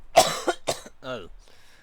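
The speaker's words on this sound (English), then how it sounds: "I don't know what's going on with this cough. It just won't go away." Two sharp, harsh coughs from one person at close range, a lingering cough that keeps coming back, followed by a brief voiced throat sound and then quiet.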